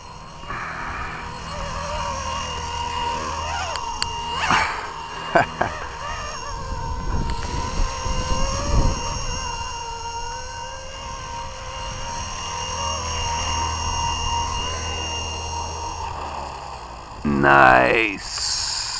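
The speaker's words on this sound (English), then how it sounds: "Man, feel the air coming off of those rotors." Blade 230S RC 3D helicopter flying stunts, its rotors and motor whining steadily with pitch swings as it maneuvers, with a louder whoosh near the end and faint voices in the background.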